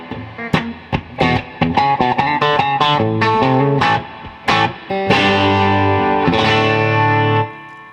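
Electric guitar played through two amps blended together rings out in distorted, effects-laden chords and picked notes, loud and close, with a chorus-like shimmer and sustained ringing at the end.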